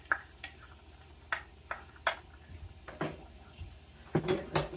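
Shrimp going into a hot pan on medium heat for shrimp Alfredo, with a series of sharp clinks and scrapes of utensils against cookware at irregular intervals, close and moderately loud, with no talking.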